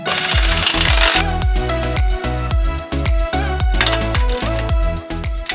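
An ATV bumper's mounting bolts are tightened down with a power tool. Loud, close, rapid repeated impact hammering runs in bursts, with a short pause and metallic clatter between them.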